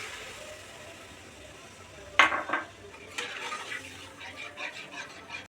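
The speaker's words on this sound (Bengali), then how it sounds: "পনিরের পেস্টটা একটু নাড়াচাড়া করে এখানে 1 কাপ দুধ রেখেছি, এটা ঢেলে দেব।" Paneer paste being stirred in a pan while making modak at home: a soft scrape bursts out around the middle, followed by lighter, intermittent stirring scrapes over a quiet background.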